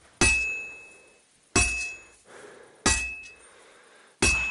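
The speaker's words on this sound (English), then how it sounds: "I've been banging this spot for a long time" Hammer striking metal at a forge in Kingdom Come Deliverance 2, four sharp ringing clangs at a steady, unhurried pace, each bright strike trailing off into a short metallic shimmer before the next.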